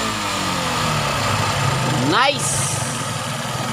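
Yamaha FZ motorcycle engine running after a hard start, a steady close idle with a brief rise around the middle, under a voice and other talk.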